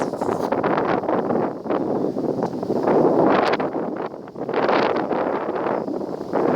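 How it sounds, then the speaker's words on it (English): Wind buffets a microphone outdoors near a rock edge in woodland, a loud, continuous rumbling roar that swells and eases with the gusts, with no talk over it. "I hope the wind's not spoiling this."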